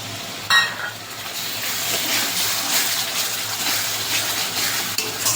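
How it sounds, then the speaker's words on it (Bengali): Cumin and coriander powder mixed with water fries in hot oil as a spice paste for boal fish curry, giving a steady, close hiss of sizzling after a brief clatter at the start. "এই মশলাটা ভালো করে বেটে মশলাটা কষিয়ে নেব।"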